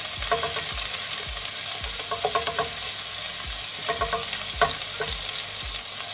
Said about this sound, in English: the garlic is getting golden brown now